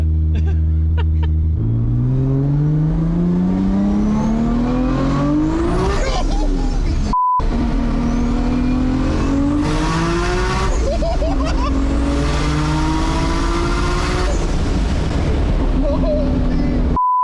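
A 1200 hp TRC Toyota Supra with a 3.2-liter Dart 2JZ engine screams up to 9000 RPM during a ride-along, loud and close, with two long rising pulls separated by a brief gap and a tire squeal.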